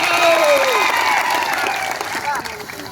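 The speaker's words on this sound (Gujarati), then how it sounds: "એવા આદિવાસી સમાજ માટે પણ એકવાર જોરદાર તાળીઓ પાડી લો" A large crowd at an outdoor political rally applauds loudly and steadily, the clapping mixed with raised voices and cheering.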